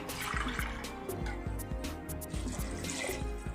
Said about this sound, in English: At this stage, we'll add the water.